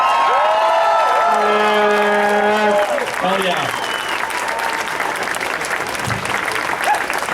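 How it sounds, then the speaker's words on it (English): Outdoor rally crowd in Edmonton protesting Bill C51 applauds throughout, a dense wash of clapping with scattered cheers, while a voice on the PA talks over it near the start. "Let's hear a big round of applause for everyone who showed up"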